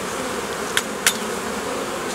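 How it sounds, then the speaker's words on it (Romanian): Honeybees released from a hive box during colony splitting, giving a steady, moderately loud buzzing hum with a couple of brief sharp clicks, and no voices. "bineînțeles, să dau drumul la albine"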